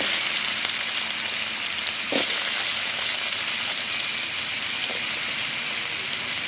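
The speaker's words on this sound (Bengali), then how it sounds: "আলুগুলোকে একটু লাল লাল করে ভেজে নেব" Potatoes fry in oil in a wok, a steady, dense sizzle that holds at an even level throughout with one or two brief stirring scrapes, heard alone without any voices.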